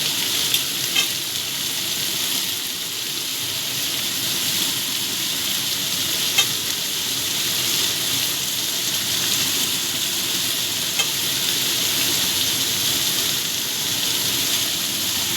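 Dried fish fries with onions and salt in a hot pan while being stirred, a loud, continuous close sizzle with faint scraping ticks of the spoon and no talking.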